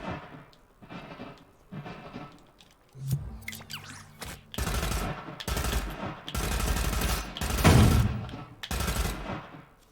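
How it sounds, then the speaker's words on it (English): Gunfire sound effects built in the video game Dreams play as loud bursts of rapid shots and single cracks, separated by short gaps, growing denser and louder toward the end. "we don't need to play the tail on every gunshot"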